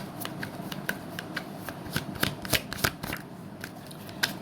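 Tarot cards are shuffled by hand in a close, brisk series of papery riffles and sharp flicks, irregular in rhythm and fairly loud, with no voice.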